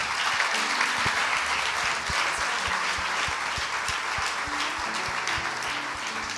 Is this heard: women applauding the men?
yes